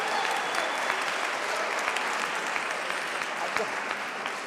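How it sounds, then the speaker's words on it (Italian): A classroom full of students clapping steadily, a sustained round of applause that holds at an even level throughout. "Applauso ragazzi a Veronica"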